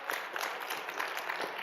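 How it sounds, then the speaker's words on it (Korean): A church congregation claps in praise, a brief, continuous burst of many hands, fairly distant and even in level. "우리 하나님께 영광의 박수하여 하면 좋지 않겠어요?"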